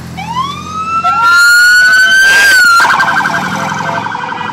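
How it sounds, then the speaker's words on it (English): A sheriff car's siren wails at a biker toy parade, rising and sweeping in long glides, loud and close, with crowd and engine noise beneath. "Look at that sheriff car."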